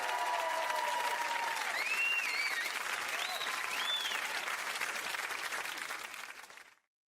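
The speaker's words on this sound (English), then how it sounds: "I actually have I have sound effects with the cheer." A canned cheering-and-applause sound effect plays loudly: dense crowd clapping with whoops and whistles rising above it, sustained for several seconds before fading out abruptly.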